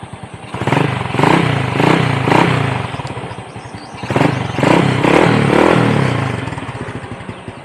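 A Yamaha Mio scooter-style motorcycle engine cranks and catches, then idles and is revved in two bursts with clattering mechanical noise, close and fairly loud, with no talk.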